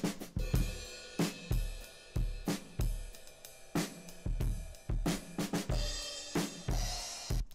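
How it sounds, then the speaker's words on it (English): Punchy rhythmic drum loop processed through the Waves J37 tape saturation plugin, with a gritty, saturated edge; the hits sound thick and slightly crunchy, with distortion thickening the upper end. "You can just hear when that distortion starts coming in."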